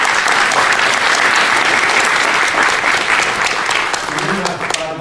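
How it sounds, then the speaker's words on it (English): An audience applauds after a talk, dense sustained clapping that stays loud and close for several seconds before easing slightly at the end. "Give him a round of applause for that."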